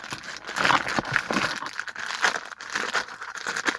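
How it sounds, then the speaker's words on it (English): Stickers being peeled off a Crystl unboxing package, giving a continuous close crinkling, tearing rustle with several sharper rips, loud and steady with no speech. "I'll have to pull 2 stickers off this one too"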